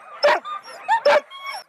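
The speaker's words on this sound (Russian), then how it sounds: "в питомнике северных ездовых собак Андрея и Анастасии Семашкиных" Northern sled dogs at a kennel let out a few short, loud yips and barks close by, two sharp yelps standing out among softer whining calls.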